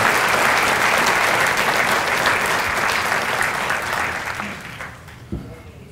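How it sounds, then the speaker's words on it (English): Audience applause for the national anthem singer at a police services awards ceremony, loud, dense clapping from a seated crowd that fades over the last second or so, ending with a stray knock. "If we could I get one more round of applause for Erica and her national anthem?"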